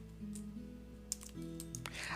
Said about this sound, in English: I'm typing in the Bible Gateway right now